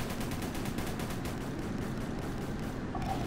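Rapid bursts of tank gunfire from the Roblox game Armored Patrol, a steady, dense clatter of shots that stays loud and continuous for a few seconds.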